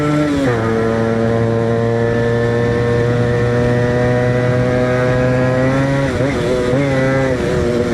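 Suzuki Shogun two-stroke motorcycle being ridden, its loud buzzing engine holding a steady drone, with rev drops and pickups around gear changes at the start and again near the end.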